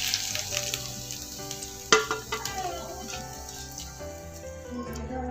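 Hot tadka sizzles and crackles as it is poured and spread over Singaporean rice, a sharp hiss at first that settles into a steady frying sizzle with a few utensil clinks.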